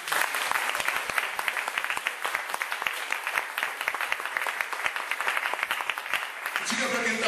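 Congregation applauding during a sermon in a church, a dense, steady wash of many hands clapping that fills the whole stretch and eases slightly near the end, with voices mixed in.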